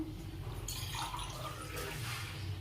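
Water pours steadily into a metal pressure cooker, a soft continuous splashing at close range with no voices.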